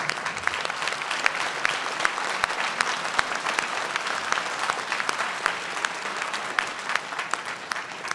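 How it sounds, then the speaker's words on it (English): Sustained applause from a town hall audience in New Jersey, dense steady clapping from a large crowd that fills the whole stretch without pause, no voices standing out above it. "give them a round of applause."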